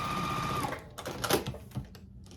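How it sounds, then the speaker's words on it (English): A sewing machine stitches a quilt block row in a close, steady run lasting under a second, then stops, leaving a few soft handling clicks and rustles of fabric. "If you know what you're doing, just go ahead and sew it up."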